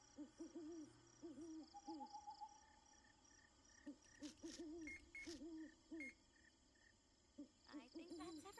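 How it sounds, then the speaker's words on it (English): Owl hooting at a campground, repeated soft hoots in short groups over a steady chirp of crickets and insects, with faint clicks and bleeps around them. "I love the owl sound."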